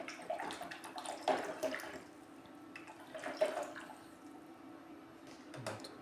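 A spoon stirring crystals into a container of water to dissolve them for a seed-soaking solution, with soft, intermittent swishing and light clinks, faint and close, with no talk.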